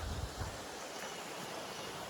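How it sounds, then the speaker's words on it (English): Creek water flowing steadily beside a hiking trail, a continuous broadband rush with a low rumble at the start and no voices over it. "And you hear the water."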